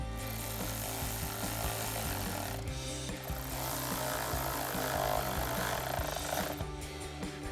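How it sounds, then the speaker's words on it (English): A 7mm socket on a power driver tightens hose clamps on a Mishimoto cold air intake in a 2021-2024 EcoBoost Bronco, a continuous faint rattling buzz of the tool running alone with small shifts in pitch. "we'll switch to a 7mm socket and tighten down our two clamps"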